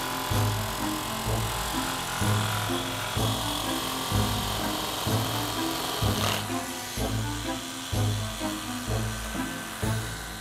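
A newly bought electric saw cuts wood in a steady rhythmic pattern, with repeated strokes roughly once per second, loud and close, with faint talk at times.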